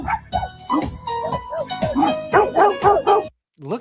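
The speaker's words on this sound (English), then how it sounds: "Look how angry the dogs are." Angry dogs at a public dog park bark, yip and whine in a rapid, close, overlapping volley that carries on steadily before a short pause and one more bark.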